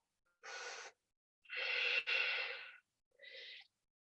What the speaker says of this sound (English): Deep breaths. Use that Ujjayi breath.